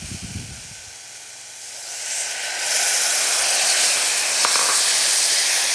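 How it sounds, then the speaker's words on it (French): Grapefruit juice poured into a hot pan with banana, a soft low clatter followed by a rising, steady steamy hiss and sizzle that grows louder and holds, with no voice. "Et ajouter également le jus de pamplemousse."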